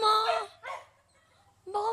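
A dog barks in two or three short, loud bursts near the listener, with a quieter pause between them, set among people talking outdoors.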